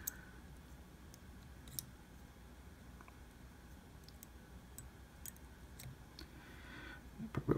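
Scissors trimming the thread tag on a zebra midge fly at a tying bench, heard as a few faint, sharp snips and small clicks scattered across a quiet background, with no talking.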